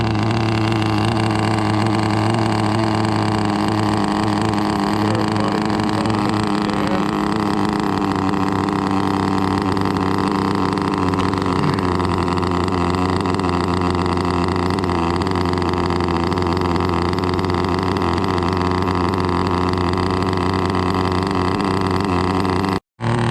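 An HPI Nitro RS4 RC car's small nitro engine runs steadily at close range, a loud, continuous buzzing drone with slight pitch wavering throughout, then it cuts off abruptly at the end.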